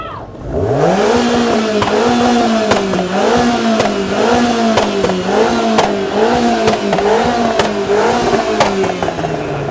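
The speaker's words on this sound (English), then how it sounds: "Only a tiny little buzzy engine in there." A small, buzzy supercar engine revs hard and steadily at a decibel test during a supercar weekend, its pitch rising and wavering in repeated surges, loud and close with sharp clicks over the roar.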